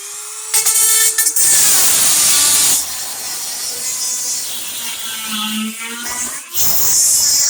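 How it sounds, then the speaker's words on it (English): A Dremel rotary tool grinds down a broken wheelbarrow part to square it off, a loud, close high-pitched whine that starts in short bursts, drones steadily, then cuts out and restarts. "So what I need to do is take my Dremel tool."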